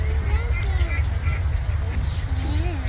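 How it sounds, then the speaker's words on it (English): Ducks quacking as they approach a feed pail, repeated calls of moderate loudness over a heavy low background rumble, with no speech. "Ducks will find it. Here they come."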